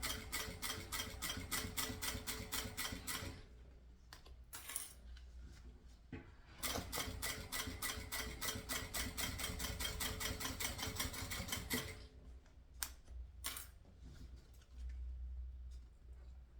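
A sewing machine stitches thick synthetic material for a crossbody bag in rapid mechanical bursts, stopping and restarting several times with quiet handling clicks between runs; no talking.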